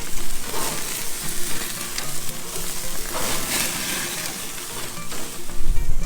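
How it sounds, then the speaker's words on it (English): Steady crackling sizzle of Korean short rib on a grill over high heat, loud and close, with a few brief pops and no talking. "we got some short rib grilling up"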